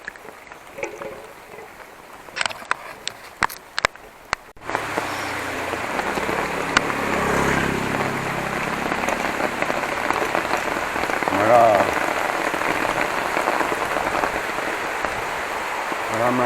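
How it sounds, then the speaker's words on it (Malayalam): Heavy rain pours down on a surface after a few sharp clicks and knocks at the start, a dense steady roar that stays loud and close, with faint voices briefly beneath it. "മഴ നന്നായിട്ട് കൂടി."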